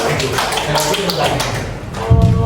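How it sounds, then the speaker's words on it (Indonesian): A class of students clapping for a classmate, a short burst of close, uneven hand claps and taps mixed with voices and a thump near the end. "Kita kasih tepuk tangan kepada Wahyu."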